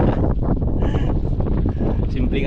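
Strong wind buffets the microphone outdoors in a loud, continuous, roaring rush with no break, and voices are faintly mixed in.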